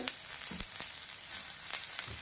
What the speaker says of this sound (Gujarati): હવે આપણે સોસ કરવાના છે તો ચીલી સોસ નાખું છું દોઢ ચમચી એટલો